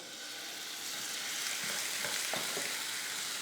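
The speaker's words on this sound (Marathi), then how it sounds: "स्टीलच्या भांड्यात जेव्हा आपण मसाला असा परततो" Steady frying sizzle of masala in a steel pan, with a few light scraping stirs near the end and no voices.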